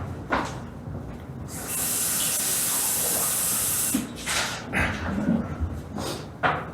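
Water pours into a glass of whiskey as a steady hissing stream lasting about two seconds, followed by a few brief knocks and handling noises.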